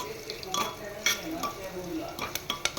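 Garlic, dried red chillies and crushed ginger sautéing in a pan for dal khichdi, a gentle sizzle with scattered spoon clinks and scrapes against the pan, quick taps near the end.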